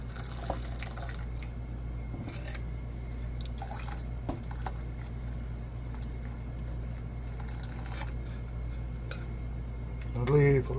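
Liquid trickles and drips steadily as cooking liquid drains from a pan of chicken, with a low background hum and a few light clinks near the end.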